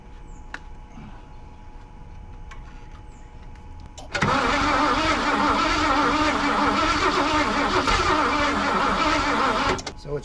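A 460 engine cranks and tries to start: quiet background with some talk at first, then a loud, continuous churning roar that holds steady for several seconds before cutting off, heard up close.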